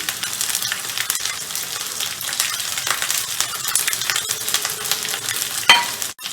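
Whole garam masala (black and green cardamom, cinnamon, cloves and cumin) crackles and sizzles loudly in hot oil for keema, a dense continuous frying hiss with scattered pops and a clink near the end.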